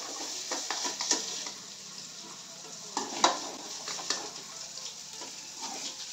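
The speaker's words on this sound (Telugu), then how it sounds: "ఇలాగ ఫ్రై చేసుకోవాలి." Soya chunks frying in a hot pan, a steady crackling sizzle with occasional louder pops and the scrape of stirring, with no voices.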